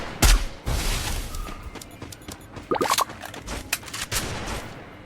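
Rapid bursts of gunfire from a mobile shooting video game, several loud volleys spread across the moment with short gaps between them, no talking over it.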